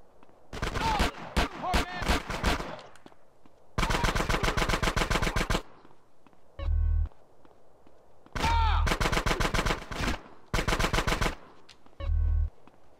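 Gang war gunfire in the video game GTA San Andreas: several loud bursts of rapid automatic fire, separated by short pauses, with a few deep booming thuds between them.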